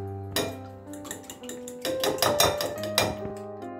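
A mixture with pepper is beaten in a metal bowl for breakfast bread, giving quick repeated clinking strokes over a steady hum. The sound is fairly faint.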